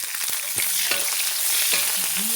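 Onion hitting hot oil in a pan, a loud close crackling sizzle with a few scraping stirs and clinks throughout.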